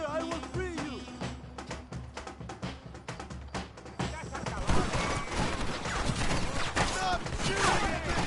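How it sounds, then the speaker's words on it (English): Gunfire in the video game Red Dead Redemption: rapid volleys of shots and cracks layered over game sounds, sparse at first and then a dense, louder barrage in the second half, with voices shouting amid the shooting. "Stop shooting!"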